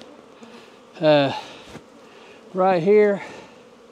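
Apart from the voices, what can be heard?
honeybees buzzing while being shaken from a hive frame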